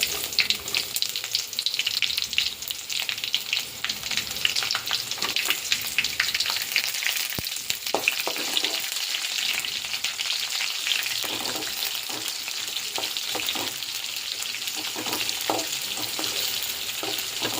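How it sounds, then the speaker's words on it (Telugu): Onions frying in oil in a pan, giving a steady, busy sizzle and crackle with stirring scrapes that runs close and fairly loud for the whole stretch, with no talking. "ఇవి కొంచెం గోల్డెన్ కలర్ వచ్చేంత వరకు వేయించుకోవాలి ఆయిల్లో"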